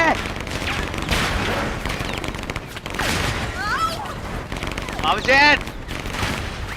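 Bursts of video game gunfire crackle and pop under steady talk, with a louder volley near the end.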